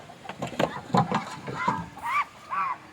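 A run of nasal honks and squawks from a small group of ducks, close and fairly loud, coming in irregular bursts with short pauses.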